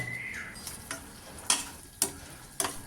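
Chopped tomato, coriander leaves and brinjal sauté in a pan with a quiet, soft sizzle, broken by a few sharp spoon-against-pan clicks spaced about half a second apart. No voices.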